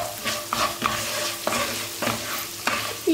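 Rice sautéed in butter in a pan, stirred with repeated scraping strokes over a steady close sizzle, with no one speaking.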